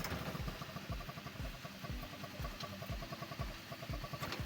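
A SYM Jet Power 125 scooter engine idles close by while warming up after a no-start fault repair, giving a steady, rhythmic putter of evenly spaced low pulses with no voices.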